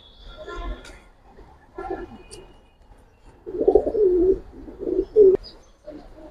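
Giribaz and coloured pigeons coo in low, throaty bursts close by, with softer murmurs at first and then several stronger coos in quick succession.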